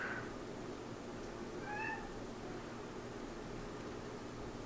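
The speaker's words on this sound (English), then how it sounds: "my cat is out there crying again" A cat cries faintly with one brief, distant meow from another room, set against steady background hiss, and no one speaks.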